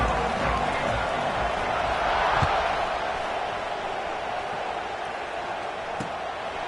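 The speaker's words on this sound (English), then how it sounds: "this crowd is buzzing after that last score" A college football stadium crowd at Michigan vs SMU gives off a steady, broad roar of noise with a few faint thumps, swelling slightly early and then easing.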